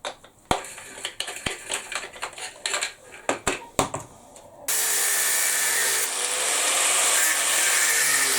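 A hand saw cuts off a knob end in a workshop, with a few sharp knocks and scrapes first, then a loud, steady, rasping stroke that runs to the end, up close with no voices.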